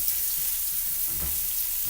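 Mushrooms cook down in a hot pan for a burger, giving a brief, even, close sizzling hiss with no talk.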